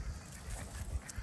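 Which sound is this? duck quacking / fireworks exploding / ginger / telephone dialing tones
duck quacking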